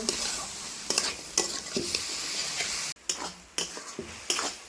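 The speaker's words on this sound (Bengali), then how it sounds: "আবার কিছুক্ষণ আমি এগুলোকে ভালো করে নাড়াচাড়া করে নেব" Mushrooms and peeled peas sizzle in a pan while a spoon stirs them, a bright steady frying hiss punctuated by sharp scrapes and knocks against the pan, briefly cut off midway before resuming.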